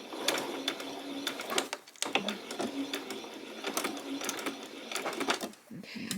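A domestic sewing machine stitching a peasant top runs close by in uneven rattling bursts, starting and stopping with sharp ticks and clatter throughout.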